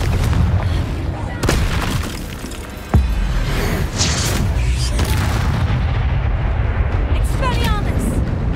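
Explosive fire spell blasts in the Hogwarts Legacy video game, booming over dense battle noise with a sharp burst near the middle and continuous rumbling clatter throughout.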